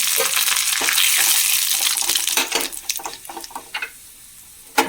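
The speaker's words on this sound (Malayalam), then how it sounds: "വറ്റൽ കറിവേപ്പില ചേർത്ത് കൊടുക്കാം" Dried curry leaves and mustard seeds crackle and sizzle in hot oil for a mango pachadi tempering. A dense, steady frying hiss starts loud, then thins into scattered pops and spits that fade toward the end, with no talk.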